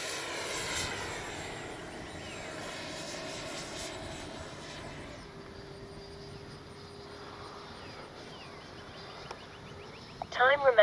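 Freewing 80mm F9F-8 Cougar RC jet flying overhead, a steady whooshing ducted-fan whine that holds at moderate distance and then swells into a louder rush near the end.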